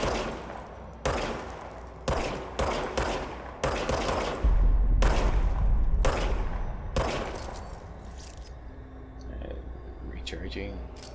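Repeated bursts of gunfire in Control, the shooter firing at targets on a practice range: sharp shots arrive in irregular clusters, loud and close, and a low thud booms midway through.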